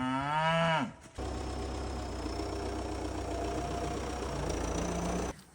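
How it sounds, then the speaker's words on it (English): A young Highland cow lets out one close, loud moo at feeding time. A low idling engine hums steadily for the rest of the moment. "So we are feeding the Highland cows this morning"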